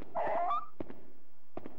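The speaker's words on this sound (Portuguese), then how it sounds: "o cara chutou o cachorro" A dog in the PS2 video game Haunting Ground lets out a short, high, wavering whimper after being kicked, followed by a few soft, dull thuds in a quiet scene.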